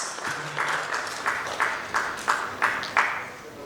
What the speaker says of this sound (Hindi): जब भी फोटो पोज होगा हम लोग ताली बजाते